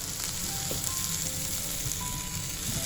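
Tomatoes and onions frying in a pan, a steady close sizzle and crackle throughout with faint stirring and no talk.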